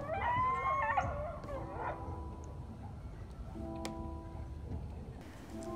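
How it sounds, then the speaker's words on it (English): Coyotes howl faintly from the brush at sunset on Twin Peaks, a few wavering distant cries rising over a steady low outdoor hum, then fading into quieter background. "the coyotes were howling in the brush as the sun set"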